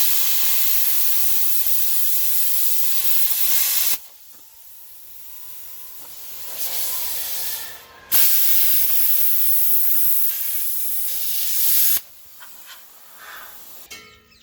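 A plasma cutter cuts out rivets on a 1963–1972 Chevy GMC truck frame, giving loud, close, steady hissing bursts of about four seconds each, separated by short quiet pauses.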